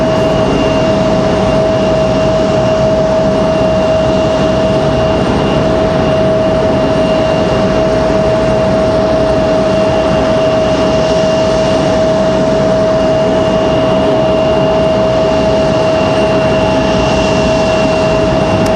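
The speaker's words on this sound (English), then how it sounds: "United A319 headed up the hill, just beyond the E-175." At Raleigh-Durham airport, a United Airbus A319 jet taxis with a steady, continuous engine whine and a sustained tonal hum over a broad rumble, holding level throughout with no voices.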